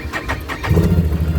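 A motorbike engine cranks with a few quick rhythmic starter pulses, then catches and settles into a low, steady rumble at close range.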